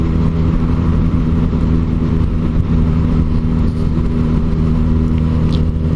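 Kawasaki four-cylinder motorcycle engine running at speed, a loud, steady, busy drone with high revs, heard up close and continuous without any speech.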